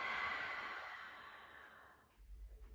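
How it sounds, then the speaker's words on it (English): A slow, breathy exhalation released through the mouth during a guided relaxation, loud at first and tapering off over about two seconds, followed by a faint low rumble. "I want you to breathe in, releasing out the mouth."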